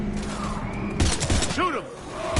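Rapid gunfire from a firefight in Mass Effect 3, with bursts of shots crackling in quick clusters over a steady background rumble, moderately loud and close.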